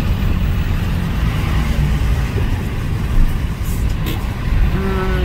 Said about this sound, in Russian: Вот она, пробка.